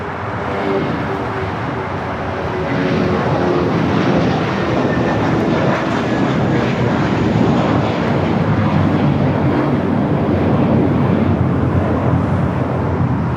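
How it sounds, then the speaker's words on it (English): An American Airlines A321 in PSA retro livery takes off at Los Angeles airport, engine roar loud and sustained, swelling slightly as it climbs away. "That was American Airlines 2789 off to Phoenix on the A321 in the PSA Retro livery"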